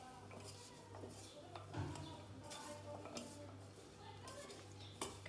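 Potato pieces are stirred in starch in a bowl, making faint, close scraping and soft clinking sounds in an irregular rhythm at low volume.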